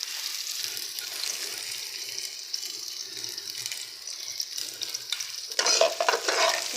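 Chopped small onion frying in hot ghee, a steady broadband sizzle with light stirring scrapes throughout, growing louder and brighter near the end, with no talking.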